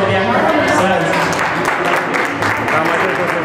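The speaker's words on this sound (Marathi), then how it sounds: "टाळ्या उजवल्या" Loud, dense applause from a group at a get-together, a continuous wash of clapping lasting a few seconds with some voices mixed in.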